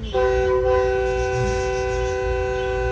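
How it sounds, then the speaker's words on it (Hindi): A train sounds its horn as it arrives: a loud, steady, sustained blast over a low rumble that lasts the whole stretch. "रेलगाड़ी, आ गई"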